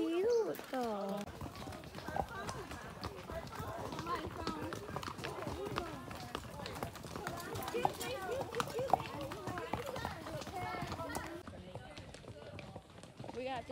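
Horse hooves clatter in a busy, continuous rhythm on a Costa Rica outing, heard close and steady under constant chatter from people nearby.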